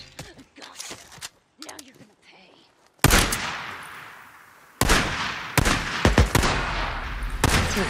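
Gunfire erupts in the Days Gone game after a brief tense exchange of voices, with a loud sudden volley followed by repeated sharp shots and bursts continuing up close.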